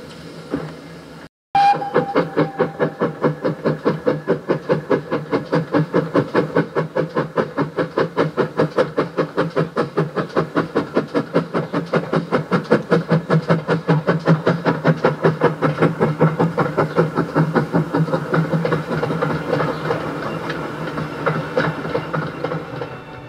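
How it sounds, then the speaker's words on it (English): A lightly loaded steam train departs a station down a gradient with rapid, steady chuffing beats that hold loud and even, opening with a sharp clank and brief hiss. "With such a light load and working down the gradient of Barrowbush Hill, the engine makes a spirited departure."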